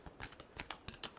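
A final hand shuffle of a tarot deck gives a quick series of soft, papery card flutters, close and fairly quiet with no voices.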